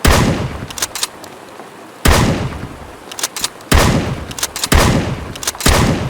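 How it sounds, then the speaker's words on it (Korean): Loud in-game rifle shots from the survival shooter Road to Vostok, four or five sharp reports spaced about a second or more apart, each with a short ringing tail and no talking between them. "한 발 쏘고 장전해야 돼."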